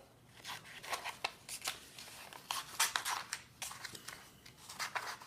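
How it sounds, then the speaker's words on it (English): Scissors snipping through paper to cut out a letter R shape, a quick series of close, faint crisp cuts and rustles in uneven bursts. "if you cut this R shape out,"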